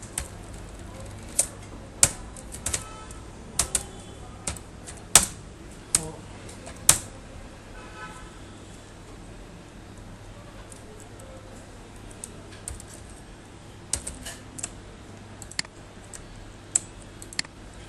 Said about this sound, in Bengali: আমি এখানে কিছু লিখি।